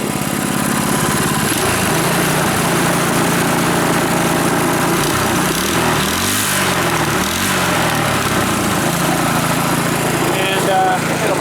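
A reassembled Powerfist small gasoline engine running steadily and loudly up close, a buzzy mower-like drone that holds constant with slight wavering, while someone speaks over it.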